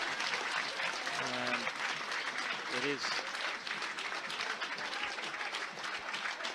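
At Chippenham Town versus Lincoln City in the FA Cup, a football crowd applauds a substituted player, a sustained clapping roar throughout while a commentator speaks over it.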